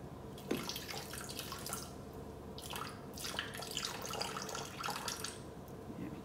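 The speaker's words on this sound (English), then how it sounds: "And next is 40 grams of water." Water, 40 grams measured for a Korean BBQ pork recipe, pours into a mixing bowl as a steady splashing, running stream with bursts of louder trickling, close and alone without talk.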